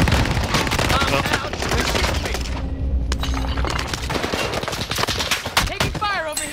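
Dense rapid gunfire and explosions in a tactical shooter video game, continuous and loud, with players shouting over the battle noise.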